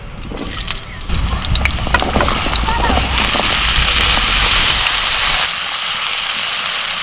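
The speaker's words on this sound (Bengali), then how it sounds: "কড়াইতে সর্ষের তেল দিয়ে দিয়েছিলাম তেলটা গরম হয়ে গেছে প্রথমে আমি আলু ভেজে নেবো" Potatoes hit hot mustard oil in a wok and burst into loud, crackling sizzle that swells, then settles into a steadier hiss, with a voice faintly audible at times.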